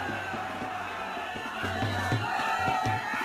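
Large outdoor crowd gathering in Uttar Pradesh ahead of the Holi festival, a dense continuous murmur of many voices with occasional louder shouts and rhythmic low thumps, steady and close.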